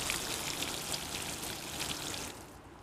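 An automated garden irrigation system sprays water over pepper and tomato beds, making a steady, soft hiss of spray and droplets that cuts off abruptly just before the end.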